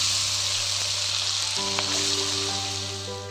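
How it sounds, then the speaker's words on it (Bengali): Pieces of ash gourd drop into hot oil tempered with cumin, bay leaf and dry chilli, the oil sizzling and frying steadily throughout with a fresh burst of crackle partway through as the gourd goes in. "ফোড়নটা একটু ভেজে নিয়ে তেলের ওপরে চাল কুমড়োগুলোকে দিয়ে দিচ্ছি।"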